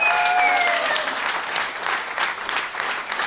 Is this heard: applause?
yes